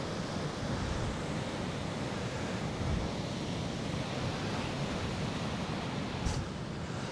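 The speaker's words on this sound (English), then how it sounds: "Look at the beach, all to myself." Waves break on an empty beach near Hartland in North Devon, a constant loud roar of surf with wind buffeting the microphone throughout and no voices.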